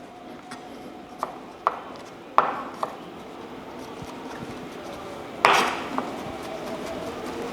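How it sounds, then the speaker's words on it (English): Garlic is chopped with a knife on a cutting board, giving several sharp close knocks at irregular intervals, the loudest two near the start and toward the end, over a low kitchen hum with no talking. "So we're gonna get our garlic kind of cut up here."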